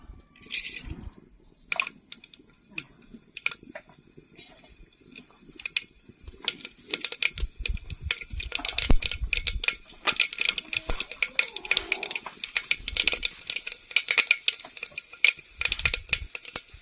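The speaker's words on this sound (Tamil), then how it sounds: "கடுகு பறிஞ்சிருச்சு" Mustard seeds spluttering in hot oil in a pan for a cowpea kuzhambu tempering: busy, sharp crackling pops that start sparse and build into a dense, fizzing sputter, close and steady.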